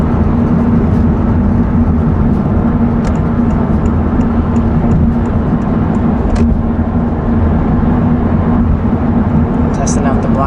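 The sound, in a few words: Honda Civic Type R FL5 driving on the freeway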